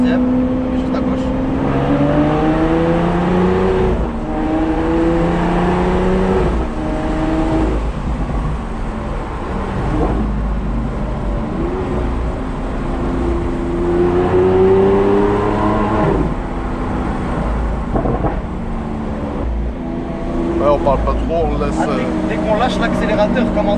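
A Lamborghini Aventador S engine heard from inside the car as it revs and its exhaust opens, a loud, continuous roar rising and falling through the gears, with occupants talking over it.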